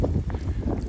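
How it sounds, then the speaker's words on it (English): Strong gusty wind buffets an unshielded microphone outdoors in Shrewsbury, a low, rumbling roar that swells and dips without pause for under a second. "excuse the wind today, it's very windy."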